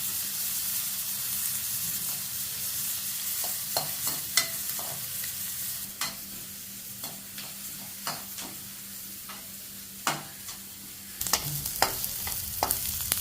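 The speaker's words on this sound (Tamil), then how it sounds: "இந்த வெங்காயம் கண்ணாடி பழம் வர வரைக்கும் நம்ம வதக்கணும்." Onions sauté in a pan until translucent with a steady crackling hiss, punctuated by repeated sharp scrapes and taps of a stirring spoon.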